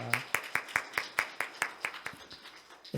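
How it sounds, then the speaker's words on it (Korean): A church congregation at Sunday worship claps in welcome, producing a steady series of about a dozen crisp, evenly spaced claps. A brief voice sounds at the very start, and the clapping loosens slightly near the end. "박수로 환영하겠습니다"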